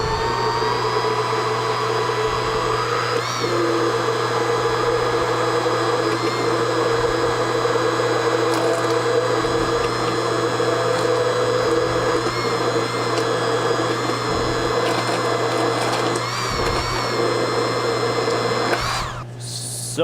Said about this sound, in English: you just use your immersion blender